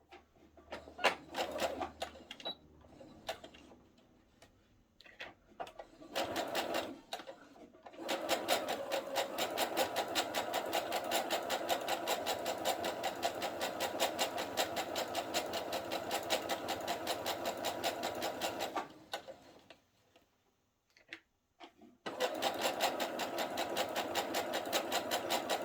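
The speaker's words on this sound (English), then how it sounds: "So I'm going to put my machine in the center needle position and line it up. Okay, so now I'm going to stitch down this side." A sewing machine in center needle position stitches down the side of a partial bodice placket, a steady, fast mechanical whir running for long stretches with brief pauses between starts, close and loud, with no talking over it.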